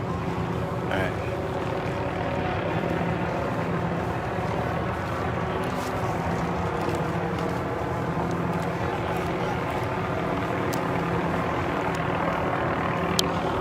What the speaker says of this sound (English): That is a helicopter for those asking.